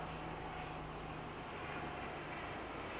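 An airplane drones steadily overhead at a distance, a faint continuous rumble with no break across a few seconds.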